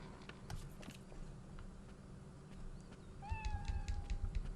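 A cat meows in the video game Lost Odyssey, a short rising meow with a falling tail near the end, sounding clearly over a quiet game background with soft footstep-like taps.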